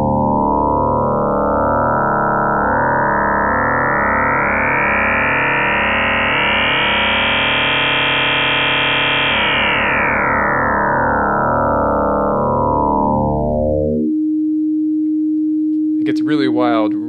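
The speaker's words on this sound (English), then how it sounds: "we can do that very simply just by turning up this internal FM knob" Intellijel Shapeshifter oscillator drones loudly as its internal FM knob is turned up, the tone sweeping into a dense, buzzing, metallic spread of harmonics before collapsing back to a plain steady hum.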